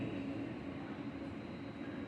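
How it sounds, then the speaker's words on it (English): Steady low rumble from inside a northbound Caltrain local commuter train heading to San Francisco. It is faint and continuous, with no talking. "This is northbound local train 129 making all stops to San Francisco."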